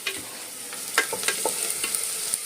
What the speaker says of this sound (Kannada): ಇಲ್ಲಿ ಮಟನ್ ಸಾರಿಗೆ ಈರುಳ್ಳಿ ಫ್ರೈ ಮಾಡ್ತಾ ಇದ್ದೇನೆ